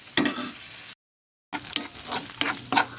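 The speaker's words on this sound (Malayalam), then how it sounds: "അതിലേക്ക് നമുക്ക് അണ്ടിപ്പരിപ്പ്, മുന്തിരിയും തേങ്ങാക്കൊത്തും വറുത്തിടാം." Cashews, raisins and coconut pieces sizzle as they roast in hot fat for payasam, a close crackling fry with stirring scrapes, broken by a brief silent gap partway through.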